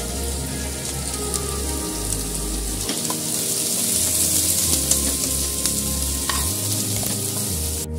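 Garlic and onion go into hot oil in a pan for restaurant-style dry chilli chicken, producing a loud, continuous close sizzle broken by scraping and clattering of a spatula stirring the pan, with no speech.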